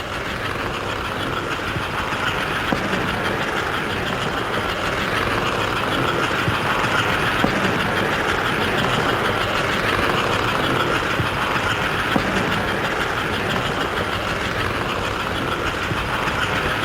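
American Flyer model trains run around a layout in a steady, continuous rumbling whir with faint clicking, moderately loud and close, with no voices.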